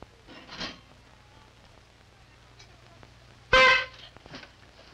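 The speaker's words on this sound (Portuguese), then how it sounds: "Qualquer hora eu vou pegar essa buzina e jogar no lixo." A car horn blares once, loud and short, after a fainter earlier honk, against a quiet low hum.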